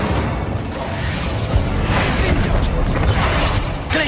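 Casting Incendio, the fire spell in the Hogwarts Legacy video game, sets off loud whooshing flame bursts and booming impacts that roar continuously with a few sharper hits.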